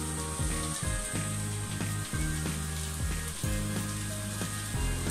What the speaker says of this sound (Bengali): আমি ভাজার জন্য তেল গরম করে নিয়েছি। এবার আমি চপগুলোকে দিয়ে দিয়ে